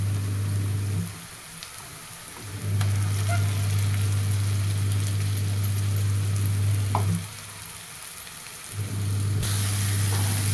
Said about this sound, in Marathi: ह्याच्यामध्ये वाटण टाकून घेते. ही तीळ आणि खोबरं वाटून घेतलेलं वाटण आहे